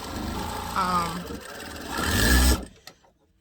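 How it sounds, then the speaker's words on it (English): A Durkopp Adler 281 commercial all-metal sewing machine hums briefly at a steady pace, then revs up before stopping, with a voice talking over it. "My sewing machine is a Dirk-Off Adler 281. It is a commercial machine."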